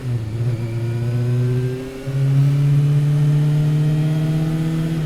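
Yamaha FZR400 EXUP motorcycle engine pulling hard on a country road near Ratcliffe-on-Trent, loud and close, a rising rev, a short drop at a gear change, then a second climbing pull.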